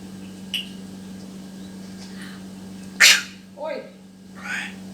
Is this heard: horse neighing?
no